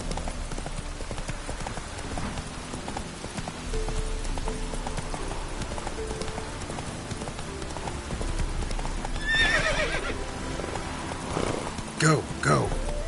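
Roach the horse galloping in a PS4 video game, rhythmic hoof clip-clops running throughout, ending with a sharp whinny and neigh, with a person talking over it.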